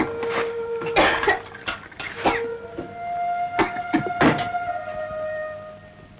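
Repeated harsh coughing from a person in an indoor family scene, several separate bursts spaced irregularly, fairly close and loud, with soft thumps and a faint tone in the background.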